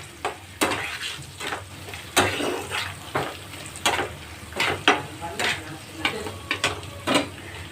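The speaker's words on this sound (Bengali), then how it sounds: "এবার এর মধ্যে টমেটো কুচি দিচ্ছি" Chopped tomato hits hot oil already seasoned with nigella seeds in a pan for a mustard-oil fish curry, giving a steady close sizzle broken by repeated sharp bursts of scraping and stirring.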